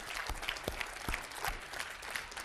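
An audience applauds steadily, a dense patter of many hands clapping with a few louder nearby claps, moderately distant and without speech.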